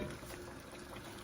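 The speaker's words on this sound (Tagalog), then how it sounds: "Yan, kumukulo na po mga ka-foodies." Water for clam tinola soup simmering and bubbling in a cooking pot, a steady low wash of boiling liquid heard up close through the short span.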